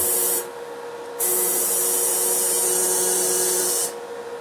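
A Hanker Pro-GTAW-320P AC/DC argon arc welding machine under repair runs in two loud, steady hissing bursts separated by a short lull, with a constant electrical hum underneath.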